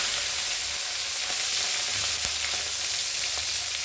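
Tomato and green chilli frying in hot oil, a steady close sizzle with crackling pops running throughout, broken by a few sharp spits, no voices.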